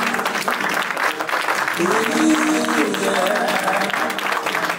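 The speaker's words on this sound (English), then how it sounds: "Keep applauding him." Audience applauding a former president at an investiture ceremony for a professional association council, steady sustained clapping throughout, with a voice speaking over it partway through.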